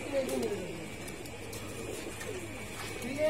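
Male pigeons at a loft cooing in soft repeated low calls as they come down to land, with background ambience and occasional faint flutters.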